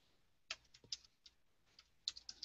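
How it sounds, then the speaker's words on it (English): Quiet clicking of keys on a computer keyboard, with irregular bursts of keystrokes and short pauses, close and faint with no talking. "Don't you see I'm typing it?"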